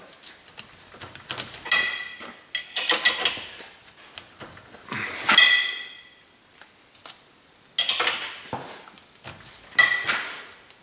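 Intermittent metallic clinks and ratcheting clicks come from a wrench tightening a castle nut on the lower ball joint of a 2005–2010 Honda Odyssey. The clicks arrive in short bursts separated by quiet pauses, close by and fairly faint.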